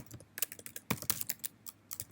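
Code is typed on a computer keyboard in a rapid, uneven patter of close, crisp keystrokes, with no talking.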